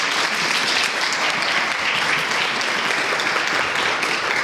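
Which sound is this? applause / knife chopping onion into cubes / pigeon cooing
applause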